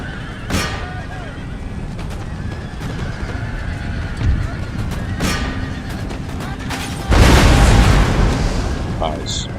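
Cavalry horses whinny and neigh amid clip-clop hoofbeats in Total War Empire, with booming artillery fire and battle noise throughout and a loud burst near the end; a voice talks over it.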